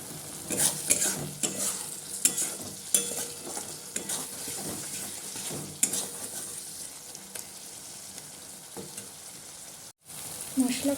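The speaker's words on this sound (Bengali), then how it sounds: "মশলাটা এবার একটু কষিয়ে নেব" Spice masala sautéing in a pan for a Bengali tarka, with steady sizzling broken by repeated scraping stirs of a spatula against the pan; close and fairly loud, with no voices.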